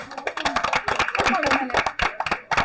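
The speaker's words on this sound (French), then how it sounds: "Alors, on applaudit Malek." An audience applauds a contestant at a Canadian cooking competition show, quick, dense clapping close by that blends with overlapping voices and cheers throughout.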